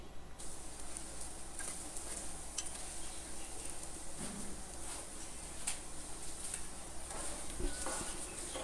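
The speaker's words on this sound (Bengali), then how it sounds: "আমি বড়া সরিষার তেল দিয়ে ভাজছি" Steady, hissing sizzle of fritters frying in mustard oil runs throughout, with occasional faint clinks and light crackles.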